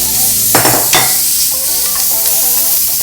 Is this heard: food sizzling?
yes